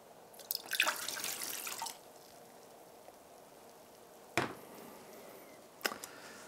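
Beer is poured for a home product shoot, a faint fizzing, splashing stream for about a second and a half, followed later by two brief sharp clinks or splashes in a quiet room.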